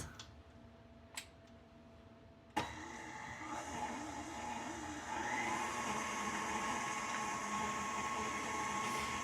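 KitchenAid stand mixer whirring through gluten-free carrot cake batter, starting abruptly after a few faint clicks and then running as a steady motor hum with rising intensity, close and alone.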